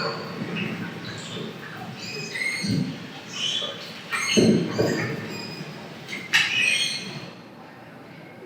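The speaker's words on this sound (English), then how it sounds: "I'm going to play some manatee sounds for you" High-pitched squeaks and squeals of a manatee, several short chirping calls scattered over a murky, rumbling underwater background.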